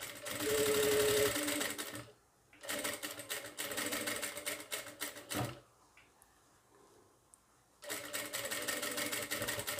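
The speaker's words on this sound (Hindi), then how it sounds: "ऐसे रखकर सिलाई चला देंगे" An electric sewing machine stitches fabric for a Sabyasachi-style blouse in three loud, close runs of rapid whirring, separated by short pauses in which only faint handling noises are heard.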